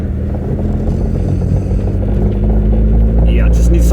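A 40-year-old Ford Capri turbo rumbles loudly and steadily from close by as it drives, with a low engine drone and metallic clatter running through it. A brief voice is heard near the end.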